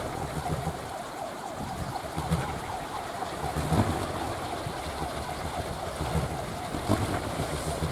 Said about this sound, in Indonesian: ini dengan angin datang lumayan cukup kencang, dan suara-suara kolecer ini sampai juga di tempat saya sobat